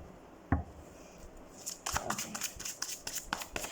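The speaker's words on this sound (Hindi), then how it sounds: "सबसे पहले हम कार्ड को कर लेते हैं शफल आपके लिए" Tarot cards being shuffled by hand, a soft burst of riffling, papery flutters starting about halfway in after a single tap, close and fairly quiet with no talking.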